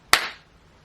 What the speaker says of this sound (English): the first thing I do when I get ready to record is I clap loudly